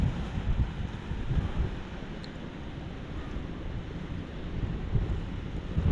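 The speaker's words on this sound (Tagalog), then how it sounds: "Ang hangin po ay malakas galing dito." Strong northwest monsoon wind buffets the microphone in low, rumbling gusts, rising and falling steadily over the whole stretch.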